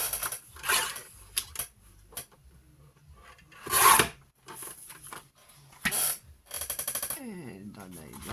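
Paper being cut for a junk journal pocket, with rasping slides, scraping strokes and a burst of rapid ratcheting clicks near the end, close and fairly loud between quiet gaps.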